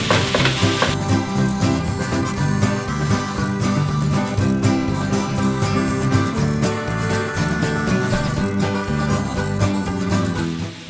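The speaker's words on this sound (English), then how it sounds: "With our wooden spoon, we'll go ahead and continue to break up the tofu." A wooden spoon stirs and breaks up tofu frying in a pan over medium heat, with a steady close sizzle under prominent background music.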